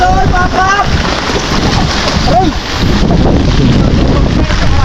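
Strong wind roars and buffets the microphone in a loud, constant rush on the Baseco waterfront with big waves, briefly easing before gusting again.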